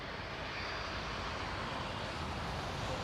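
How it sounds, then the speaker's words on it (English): A Vickers VC-10 airliner arriving on runway 27R at London Heathrow, a loud, steady broadband jet roar that fills the whole moment without gaps. "it's VC-10. T-tail, the big T-tail, the VC-10."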